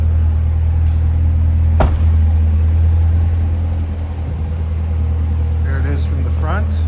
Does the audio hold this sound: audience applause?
no